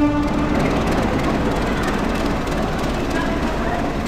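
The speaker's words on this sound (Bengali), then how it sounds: "ট্রেন আসছে যে এইখানটায়।" A train arriving at a Bangladeshi railway station, a continuous loud low rumble and roar filling the platform without letup.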